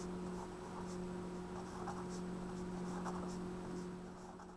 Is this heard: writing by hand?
yes